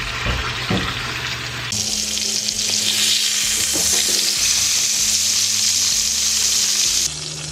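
Meat sears in a hot skillet with a loud, dense sizzle that swells after a soft opening and holds steady for several seconds before easing off; no voices.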